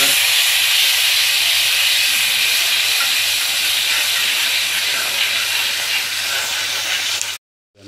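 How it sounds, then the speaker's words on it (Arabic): Garlic frying in ghee hisses and sizzles in a steady loud broadband crackle that fades slightly and cuts off abruptly near the end. "قلعنا على التوم مع السمنة زي ما انتم شايفين"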